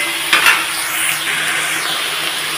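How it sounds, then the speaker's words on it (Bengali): Winter vegetables fry and get stirred in a pan, a soft continuous sizzle with a quick scrape of the spoon early on, close and clear with no talking. "আমার শীতের সবজিগুলো কি সুন্দর ভাজা ভাজা হয়ে যাচ্ছে"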